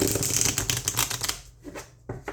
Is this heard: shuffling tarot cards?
yes